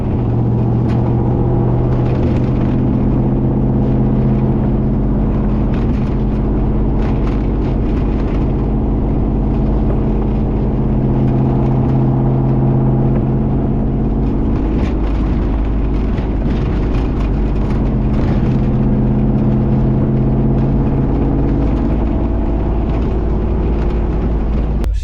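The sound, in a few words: 1992 Chevy C1500 with LS1/T56 swap being driven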